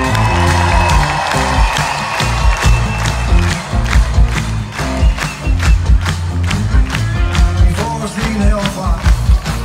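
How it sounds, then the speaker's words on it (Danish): A large concert crowd at an outdoor show in Fuengirola claps and cheers loudly and continuously, with whoops and rhythmic clapping throughout. "Jeg beder om det igen, mine damer og herrer, en hånd for publikum!"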